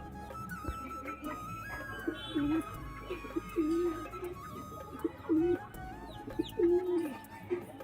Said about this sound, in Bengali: এই যে সব পায়রাগুলো বাইরে আছে।